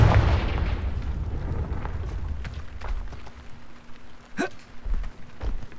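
A Confringo blasting spell explodes in a video game as a deep, rumbling boom that fades over a couple of seconds, followed by scattered smaller crackles and a brief rising whistle-like tone.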